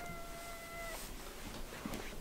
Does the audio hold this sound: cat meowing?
yes